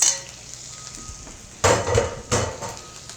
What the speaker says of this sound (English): I'm actually gonna start adding this to my fried rice.